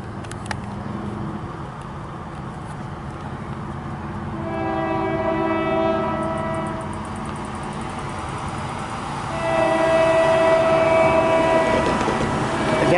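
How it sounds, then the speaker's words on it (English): A distant train horn sounds in two long blasts over a steady rumble of rail traffic, fairly faint and blending into the background noise. "Sounds like a weak horn."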